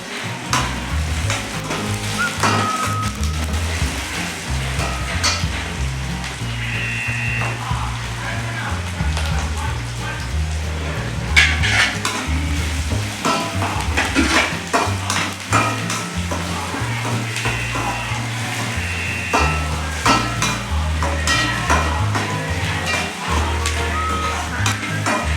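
Tirunelveli dried fish thokku sautés with curry leaves in a pan, giving a steady, continuous sizzle that runs the whole time over a layer of background music.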